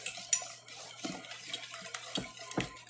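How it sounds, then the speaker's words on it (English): A whisk scraping and tapping in a pot of vegan cheese sauce as salt is mixed in, with soft clinks and swishes recurring every second or so, close and fairly quiet. "Give it a nice little whisk."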